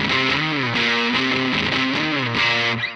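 An electric guitar played through a Screddy fuzz pedal with a short delay, sounding thick, saturated and sustained as chords slide and shift, loud and alone with no talking.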